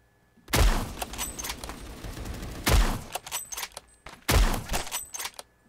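Sniper rifle fire in the Roblox shooter Phantom Forces, three loud booming shots spaced about two seconds apart, each with a sharp crack and ringing tail, with no talk over them.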